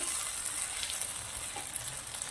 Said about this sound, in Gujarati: હવે આપણે આને મિક્સ કરી દેવાનું છે.